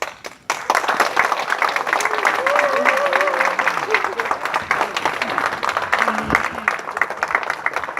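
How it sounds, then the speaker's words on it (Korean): An audience at a welcome speech by a provincial governor claps and applauds continuously and loudly, with a few voices calling out underneath. "그래서 여러분을 존경하고 박수를 드리고"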